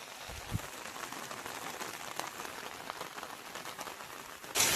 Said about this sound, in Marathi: छत्रीच्या थेंबांचा आवाज येत असतील,